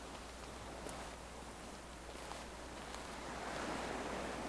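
Ocean waves rush past in a continuous foamy wash, a broad soft roar that swells slightly louder toward the end, with no voices.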